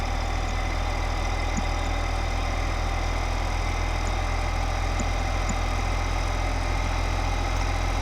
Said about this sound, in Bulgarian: Много бързо харчи горивото този трактор